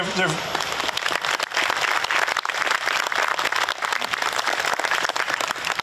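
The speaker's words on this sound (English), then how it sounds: "Round of applause." Crowd applause for veterans, including Khmer veteran freedom fighters, at the 2024 City of Lynn Memorial Day ceremony, outdoors; loud clapping runs continuously beneath a speaking voice.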